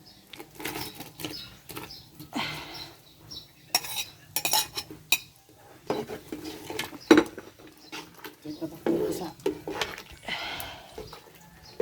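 Banana pieces go into a bubbling pot of binignit cooked over a wood fire, bringing close-up clatter of a spoon and utensils against the pot with scattered scraping and stirring knocks.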